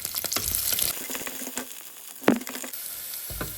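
Garlic dropped into hot oil with mustard seeds and urad dal, giving a close, steady sizzle with a few sharp pops and spatters, and a brief clank of a utensil partway through.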